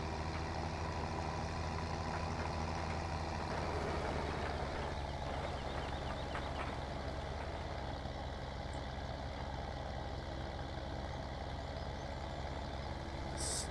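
A tractor engine in the video game Farming Simulator 17 drones steadily at low pitch, a constant heavy idle-like rumble that holds for the whole stretch with no one talking.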